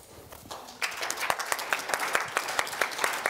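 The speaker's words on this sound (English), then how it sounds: "Please hold your applause until you hear what I have to say." Audience applause after a speaker is introduced at a talk on a large collaborative forest restoration project, starting sparse and swelling into steady clapping with a few sharp louder claps, heard alone without speech.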